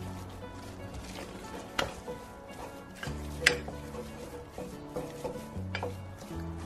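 Flour being stirred by hand into a soggy, pasty cream puff dough in a pot, with soft scraping and dull knocks of the spoon against the pan, a few sharper clinks, over a low background hum.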